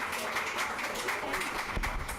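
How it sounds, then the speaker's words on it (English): A room of event attendees at a Pan Asian employee group launch gives panel speakers a steady round of applause, with dense, fairly distant clapping throughout. "Give them a round of applause"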